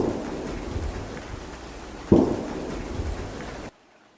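Rain falls steadily outdoors by a foggy bay on the Alaskan coast, a dense close hiss with one brief louder thump partway through before the sound cuts off abruptly.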